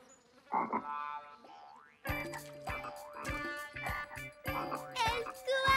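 A frog croaks in a quick series of close, loud, buzzy calls broken by short pauses, after a fainter call at the start.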